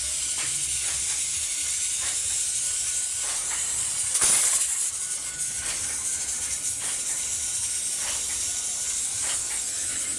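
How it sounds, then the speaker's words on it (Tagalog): A pressure cooker on a strong stove flame cooking milkfish paksiw vents steam with a continuous loud hiss, punctuated by a sharper whistling burst partway through. "Ayun, tumunog na yung whistle ko."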